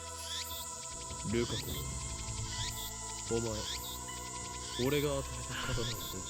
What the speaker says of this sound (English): Damn cicadas won't shut up